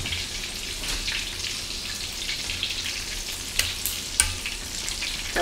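Vegetables such as sweet potato, white mushrooms and onions fry for tempura in hot oil, a steady close bubbling sizzle with a few sharper pops and crackles near the end.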